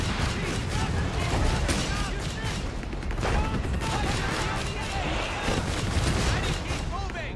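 Dense gunfire and artillery from a Company of Heroes 3 battle: continuous rattling volleys and scattered booms at steady loudness, with chatter and radio-style unit callouts mixed through the whole stretch.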